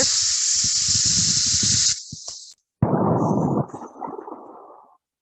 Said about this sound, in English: I've got my little camp stove out here.